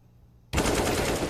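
A burst of rapid rifle fire in Counter-Strike: Global Offensive at a DreamHack Open match, ending in a headshot kill. It comes after near silence, then a loud, dense volley of close automatic shots holds steady to the end.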